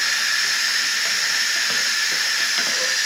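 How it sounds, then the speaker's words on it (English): Steam hissing out of an Instant Pot pressure release valve while cooking ribs, a loud, steady, unbroken high-pitched rush that fills the whole stretch with no voices over it. "There's a lot of steam that's getting ready to come out"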